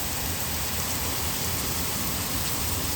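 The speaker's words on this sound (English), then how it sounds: "It's Monday and it's rainy day." Steady rain pours down outdoors onto an orange tree and surfaces, a dense, even hiss of falling water without pause or voices.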